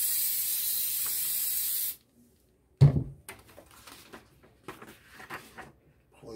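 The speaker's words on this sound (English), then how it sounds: "spray this adhesive on to hold it down on my sock instead of using heat tape" Adhesive sprayed from an aerosol can onto a sock, one steady close hiss lasting about two seconds and then cutting off, followed by quiet handling and rustling noises.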